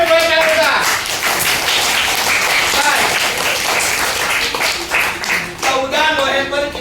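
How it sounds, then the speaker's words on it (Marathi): Children clap together at a school Children's Day birthday celebration, a dense, loud burst of applause that rolls on steadily for several seconds, with voices calling out over it near the end. "सर्व टाळ्या वाजवा"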